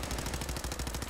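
Rapid automatic gunfire in the video game Fallout 4: a dense, evenly spaced stream of loud close shots filling a short burst.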